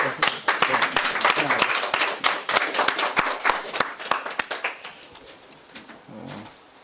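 A church congregation claps at a Friday prayer meeting, a loud burst of hand claps with distinct individual smacks that thin out and fade over several seconds, with a few voices heard near the end.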